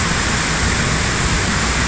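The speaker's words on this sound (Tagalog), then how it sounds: "Inabot ulit tayo ng ulan." Heavy rain pours under a bridge, a dense, loud, unbroken broadband hiss that stays even throughout with no voices.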